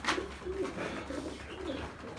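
Pigeons coo in low, soft murmurs in an attic loft with young birds, several close by with steady rustling background noise.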